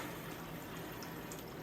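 Water hissing and rushing steadily as a home hot water heater is vented and refilled, a continuous broadband flow with no voices.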